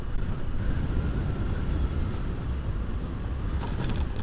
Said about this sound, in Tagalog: Ay, grabe, apakalas ng hangin.